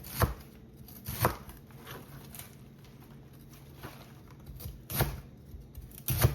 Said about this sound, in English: so if I cut nice and thin